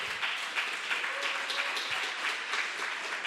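A church congregation applauds, a steady wash of clapping from many hands that holds evenly throughout at moderate volume, with faint voices mixed in.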